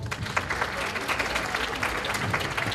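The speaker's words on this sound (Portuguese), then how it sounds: "Convidamos, os aplausos para o Gustavo." Steady applause from a crowd fills the whole stretch, dense and even, with no clear voices over it.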